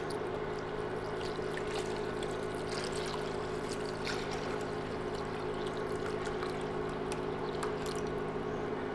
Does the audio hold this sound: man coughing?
no